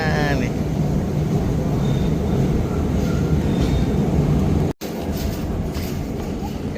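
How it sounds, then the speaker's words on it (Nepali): A Helsinki metro train rumbles with a loud, steady roar that fills the whole stretch, broken only by a brief cut near the end. "यता यहाँ मेट्रो आउँछ।"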